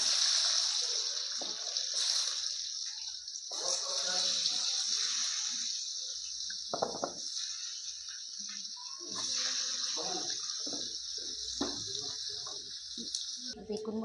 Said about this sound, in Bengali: আলুগুলোকে আমি ভালোভাবে ভেজে নেব।